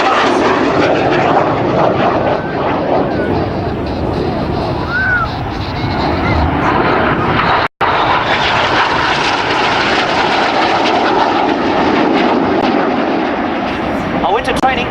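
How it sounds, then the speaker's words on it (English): Red Arrows jets roar past at an air show, four aircraft closing at high speed, a loud continuous broadband rush that swells and fades, with a public-address commentator talking over it. "Not 2, but 4 aircraft closing now."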